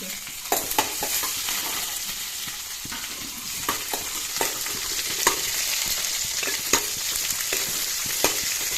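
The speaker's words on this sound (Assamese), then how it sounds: "এইখিনি অলপ লৰাই দিম তাৰপিছত পিঁয়াজ দিছোঁ আৰু জলকীয়াখিনি ইয়াত দি" Onions and green chillies fry in a pan for an Assamese home-style dish, with a steady close sizzle broken by sharp spoon-stirring clicks and scrapes about once a second.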